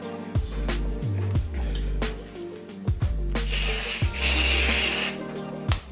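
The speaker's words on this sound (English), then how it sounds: "So we're just gonna spray this on to moisturize." Several short hissing bursts of deodorant spray onto an underarm with pauses between them, close up, alongside light handling noises.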